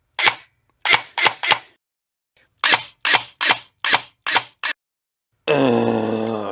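A Solink airsoft SR25 fitted with a helical gearset fires semi-auto, ten sharp separate shots in two quick clusters, loud and close, then a sustained high motor whine at the end.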